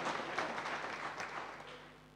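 A church congregation claps hands during a sermon, a faint, scattered patter of applause that fades toward the end.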